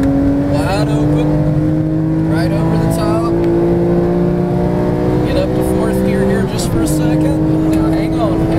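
Porsche 911 GT3 flat-six wide open at full power on a hot lap, a loud sustained engine note climbing steadily in pitch, dipping briefly near the end, with a voice talking over it.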